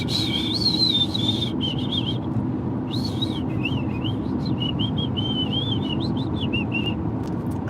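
A person whistles a wavering, high, tuneful line in repeated short phrases over a steady low background rumble, close and fairly loud, with brief pauses between phrases.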